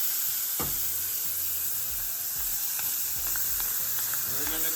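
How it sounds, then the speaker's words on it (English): Mango sauce hits a hot pan and sizzles steadily, a loud continuous hiss with occasional scraping and clinks of utensils, close up and with no speech. "We're gonna go in with our mango sauce."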